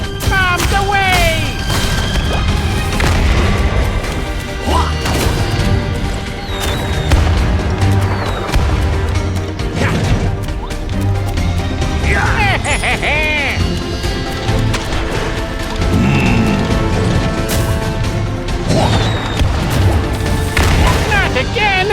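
Bombs exploding in Skylanders Trap Team on Xbox 360, repeated booming blasts amid busy game music, crashes and character effects, loud and continuous with cartoonish voices and sound effects mixed in.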